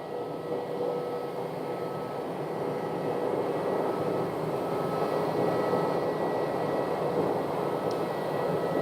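An airliner taxiing toward runway 25 right at Phoenix airport gives off a steady engine whine and rumble at moderate distance, building slightly and holding without pause, with no talk.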